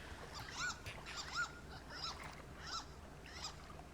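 Strange honking bird calls from the game Firewatch, several separate nasal cries spread across a few seconds over a steady wilderness ambience, with no talk.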